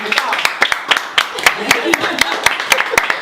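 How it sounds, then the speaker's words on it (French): Audience applause for a contestant at a Miss Côte d'Ivoire France pageant, scattered sharp claps in an irregular rhythm, loud and close, with a presenter's voice speaking over them. "Applaudissements quand même."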